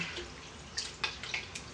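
Water splashes and trickles into a bowl of raw chicken with lemon and vinegar in a few brief pours and drips, close and fairly quiet, with no talking.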